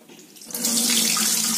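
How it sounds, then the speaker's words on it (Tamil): Tap water running into a kitchen sink while flattened rice (aval) is washed, starting softly and swelling to a steady, close splashing stream. "கழுவும் போது இப்படி நல்லா பிசைஞ்சு கழுவிடுங்க"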